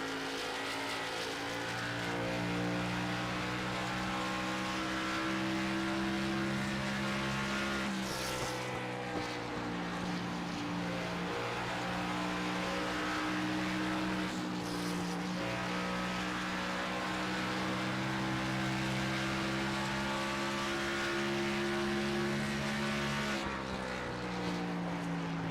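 A 125 race motorcycle ridden at speed around Darlington during a NORA B Series race, its high-revving engine whining continuously and shifting pitch as it brakes and accelerates through the lap, loud and close.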